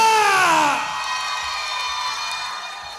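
A school event crowd at SMK PGRI I Jawara Pasuruan cheers and whoops loudly for a singer. The burst of noise is strongest at the start, then settles into a steady, sustained roar.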